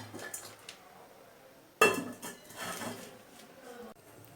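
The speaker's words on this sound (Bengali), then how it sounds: "এবার আমি ঢাকাটা দিয়ে ঢাকা দিয়ে দেবো।" A metal lid clanks down onto a cooking pan holding arranged Tangra fish, one sharp close clatter followed by a brief rattle and settling clinks, with quieter kitchen noise before it.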